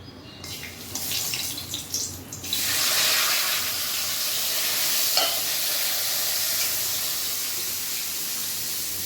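Whole spices, bay leaf, cloves and cardamom, hit hot oil in a pan for a chicken masala, giving a bright, steady sizzle that starts in a scattered burst and then settles into a continuous frying hiss, close and fairly loud, with no talking.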